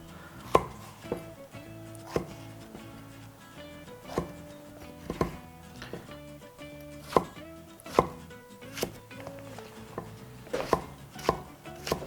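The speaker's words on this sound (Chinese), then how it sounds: "改刀，这个呢你可以切成条形，切成片都行" A kitchen knife slices a peeled vegetable into strips or slices on a cutting board: a dozen or so distinct, fairly quiet chops at an uneven pace, with faint background music underneath and no speech.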